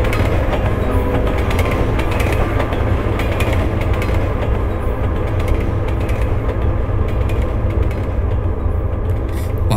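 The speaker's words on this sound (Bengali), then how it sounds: "রেল লাইনের উপর দিয়ে ট্রলি ছুটে যাওয়ার ভীষণ শব্দ কানে আসছে" A rail trolley races along a railway line in darkness, giving a loud, unbroken rattling roar that runs steadily from start to end with no voices.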